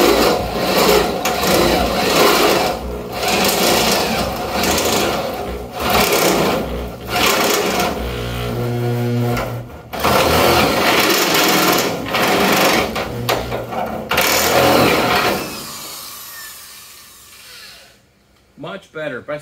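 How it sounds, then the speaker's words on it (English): A step drill bores steadily through material, a loud continuous grinding whine with surging intensity that cuts out near the end, followed by a few brief clicks. "I'm going to go ahead and try a step drill this time"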